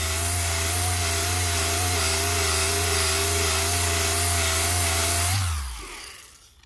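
A machine polisher works car paint to remove bird-dropping damage with a steady, loud motor hum and whir close by, then spins down and fades out near the end.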